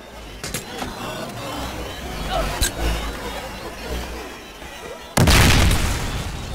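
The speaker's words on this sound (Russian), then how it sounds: "Так, ладно, придется нам еще парочку взорвать, все-таки этих ребят многовато." Grenade blasts in the VR game Boneworks: a few sharp bangs early on, then one loud, close explosion near the end with a lingering roar, while someone talks over the scene.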